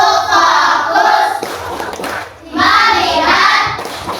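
A class of schoolchildren performing a rhythmic clapping routine in a classroom, bursts of many hands clapping close by in two loud phrases with a brief pause between.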